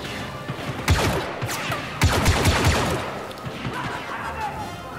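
Gunfire from Star Wars Battlefront II, heavy bursts of blaster shots and impacts clustering around two moments, with dense battle noise filling the gaps and a voice reacting over the chaos.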